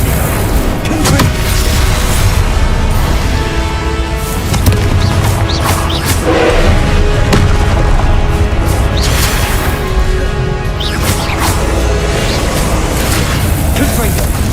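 Spell explosions from Hogwarts Legacy, repeated loud bursting booms in a steady rapid sequence, overlapping a continuous game soundtrack while a voice calls out spell names.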